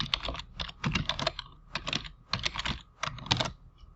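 Computer keyboard typing in bursts of quick, crisp keystrokes with short pauses between clusters, close and fairly quiet with no talking.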